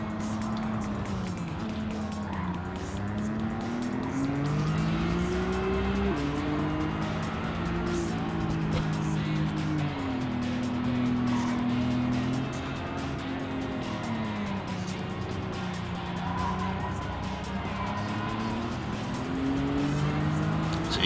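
Race cars lapping a track in Gran Turismo 7: a continuous loud engine drone whose pitch climbs and drops through gear changes and corners, with faint tire noise, running steadily for the whole stretch.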